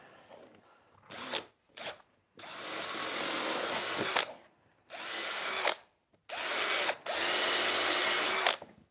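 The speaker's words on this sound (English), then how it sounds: "So there's more screws than we actually need." A power drill driving screws into a Darth Vader TIE Fighter model, several loud whirring bursts of varying length separated by brief pauses, close and alone.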